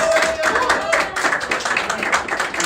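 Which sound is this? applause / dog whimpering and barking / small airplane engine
applause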